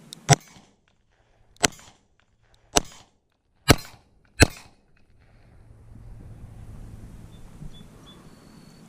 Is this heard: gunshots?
yes